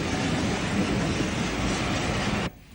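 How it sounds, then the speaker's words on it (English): Archive sound of two C-Class steam locomotives, numbers 1702 and 1715, hauling a train of rescued Dunkirk soldiers through Beckenham Junction: a loud, steady rumble and clatter of wheels and carriages that cuts off abruptly near the end. "C-Class locos 1702 and 1715 bring another of the Dunkirk trains through Beckenham Junction."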